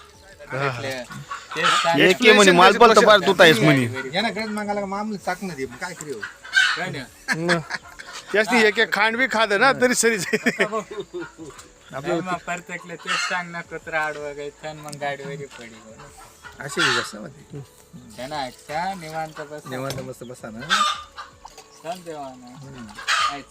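Chickens cluck and a rooster crows at a chicken shop, loud fowl calls coming in bursts while several people talk over and between them.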